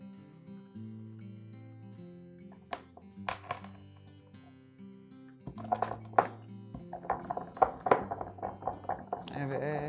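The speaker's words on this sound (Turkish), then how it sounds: "Ben streç film ve şu minik oklava yardımıyla eziyorum" Aspirin tablets are crushed under cling film with a small rolling pin, giving a run of sharp taps, knocks and clinks in the second half over steady background music.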